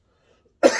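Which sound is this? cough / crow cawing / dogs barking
cough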